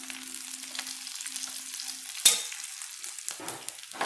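Taro root fries in a pan as spices are stirred in, with a quiet sizzle, soft scraping strokes and one sharp clink of a utensil against the pan.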